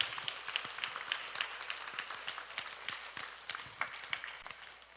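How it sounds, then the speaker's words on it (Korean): A church retreat congregation applauding, a quiet, steady patter of many hands clapping together from some distance, slowly fading toward the end. "성모님은 우리 어머니께 사랑의 박수 드립니다"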